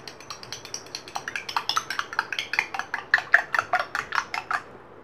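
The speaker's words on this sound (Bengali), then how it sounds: "এখানে 2টা ডিম নিয়েছি, একটা চামচ দিয়ে ভালো করে ফিটিয়ে নিচ্ছি।" A spoon beats two eggs in a bowl with a quick, rhythmic run of close, bright clinks that grow slightly louder and faster before stopping abruptly.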